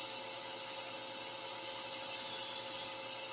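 A woodturning tool cuts into wood on a lathe, giving a steady close scraping rasp with three louder bursts of cutting as the shavings peel away, and no one speaking.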